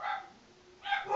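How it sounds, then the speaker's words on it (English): Two short dog barks, one at the start and one near the end, slightly distant and muffled, with a quiet pause between. "Oh, the dogs are barking."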